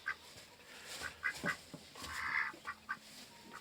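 Duclair ducks quack in short raspy calls, scattered irregularly, fairly close against a faint outdoor background.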